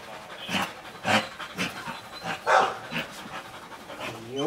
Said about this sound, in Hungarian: Jó kis kutya, bravo.